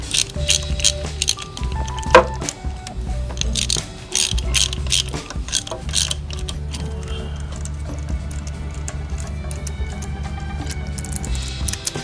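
A ratchet tightens a bolt on an S13 car, its rapid clicking in close, repeated bursts with short pauses between strokes over a low background hum.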